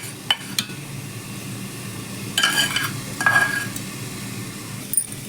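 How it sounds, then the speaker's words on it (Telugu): Fried tempering poured into a simmering tamarind stew of gongura leaves with asafoetida, sizzling in two short bursts amid faint clinks of a utensil against the pot, with no talking. "మనం వేయించుకున్న పోపు ఇందులో వేసేసుకోవాలి"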